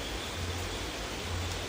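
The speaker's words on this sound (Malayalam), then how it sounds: "അതിഭയങ്കര മഴ" Heavy rain pours down at night around a house, a dense, constant hiss filling the scene with no breaks and no voices.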